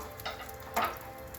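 Pork adobo sautés in a pan with a steady low sizzle and two brief scraping stirs, close and fairly quiet, with no talking.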